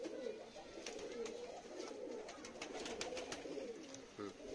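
Mated pairs of pet pigeons, including a golden one, coo nearby in soft, repeated throaty phrases that roll on through the whole stretch, with a faint voice murmuring in the background.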